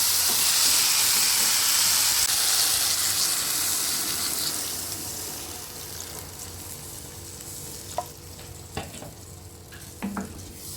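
Water poured into a hot pan of vegetarian curry, a loud hiss and sizzle of steam at first that gradually fades into softer bubbling, with a few sharp clinks of a utensil near the end.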